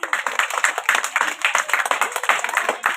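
Audience hands clapping for class prize winners at a flowers day school gathering, dense and lively with a choppy rhythm, loud and unbroken from start to finish.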